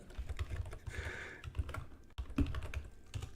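Steady typing on a computer keyboard, a dense patter of close key taps with a few louder strokes, quiet and without speech, during a search for economies ranked by size.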